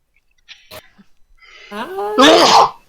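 A single loud sneeze preceded by a quick sharp inhale, a voiced wind-up rising into an explosive burst, with faint clicks before it.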